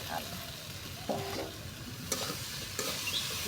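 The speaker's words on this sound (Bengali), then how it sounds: "মশলাটা কষাইতেছে মশলা আমার কষাই লেগে গেছে" Spices fry with flat beans and potatoes in a pan, a soft continuous sizzle with several distinct scraping stir strokes, fairly quiet and close.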